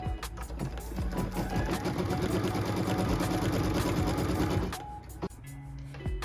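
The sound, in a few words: sewing machine stitching quilt fabric tack down line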